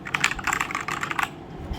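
Brisk typing on a wireless mechanical keyboard, a run of close, crisp key clicks that briefly pauses and then resumes, with no voices.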